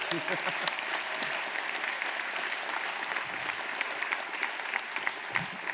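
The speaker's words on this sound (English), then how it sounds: "let's get a round of applause for winning that" Steady applause from a modest crowd at a PAX West panel, dense clapping sustained throughout with a few louder claps standing out, a voice faintly underneath.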